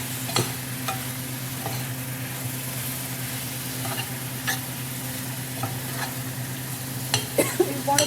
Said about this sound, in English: So I've added my lemon, and we're just going to stir it gently and cook it down a little bit.